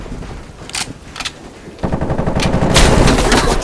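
Gunfire in a Call of Duty team deathmatch: a few separate sharp shots at first, then dense, loud automatic fire that keeps going close by.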